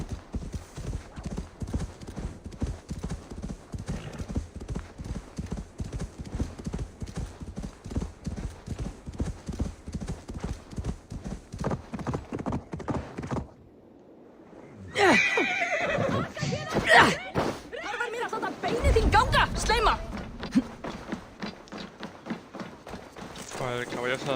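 Horse hooves clip-clop in a steady running rhythm with neighs and whinnies in Assassin's Creed Valhalla gameplay, followed after a brief lull by louder, busier game sounds with some speech.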